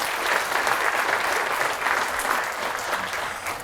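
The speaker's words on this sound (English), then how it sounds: "So a big round of applause for our basketball nominee." Sustained audience applause at a female athletes awards dinner, a steady dense clapping from a large crowd that holds at an even level throughout.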